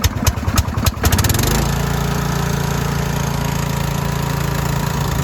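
A Huskee 42-inch riding lawn mower from Tractor Supply, previously failing to start, cranks in a few quick bursts, then catches and settles into a steady, close, loud engine run.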